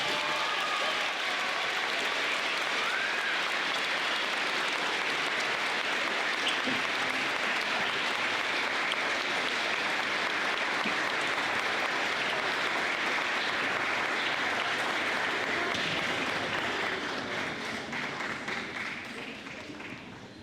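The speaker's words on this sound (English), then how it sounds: "Let's give Macy and the Riddles one more big round of applause." A school awards ceremony audience gives a long, steady round of applause, dense and even throughout before it tapers off at the end.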